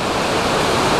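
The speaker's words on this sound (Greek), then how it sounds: "Ακούτε τη βοή του ποταμού." A river roars through a gorge at Palaiokaria, a tributary stream rushing in a loud, dense, unbroken wash of water noise heard up close.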